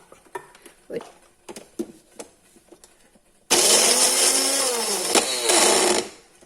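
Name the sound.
mixer grinder crushing green chilies and ginger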